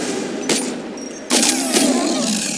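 Bursts of gunfire from the PC shooter Warframe, a short volley followed by a longer sustained run of rapid shots, loud and close with no talk over them.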